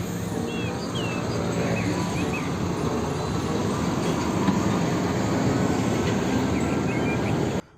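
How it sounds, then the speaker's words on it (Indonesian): A steam train passes with a loud, steady, broad roaring rumble that holds evenly for several seconds, then cuts off abruptly. "Wow, kalau yang ini kereta api uap teman-teman."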